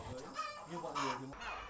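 Multi-toed chickens clucking on a farm, a busy jumble of close, overlapping clucks and calls with possible rooster crowing, at fairly low level throughout.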